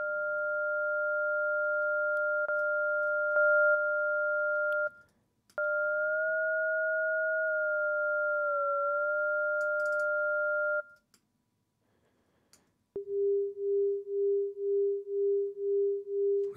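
Pure electronic tones pass through an Ableton Frequency Shifter in ring mode: a steady two-pitch drone that bends slightly, cuts out, and then gives way to a lower pulsing tremolo tone. No voices are heard.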